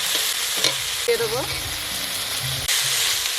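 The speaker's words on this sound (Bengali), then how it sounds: "মশলাটা ভালো করে কষে নেবো" A masala of onion, garlic, ginger paste and chopped tomato frying in a pan gives a steady close sizzle, with spatula scrapes and a brief muffled voice partway through.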